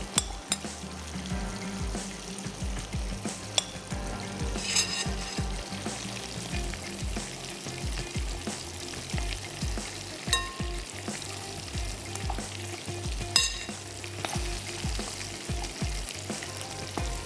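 Fish fries in hot oil in a pan, a dense, continuous sizzle with crackles and small pops throughout, close and steady, with occasional scraping and stirring clatter on top.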